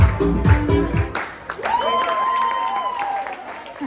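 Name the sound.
people applauding at Macy's flower show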